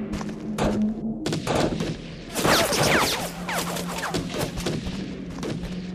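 Gunfire in the video game Heavy Fire: Afghanistan, with rapid bursts of rifle and machine-gun shots, sharp close cracks and thuds layered over a busy combat din, plus a short steady hum.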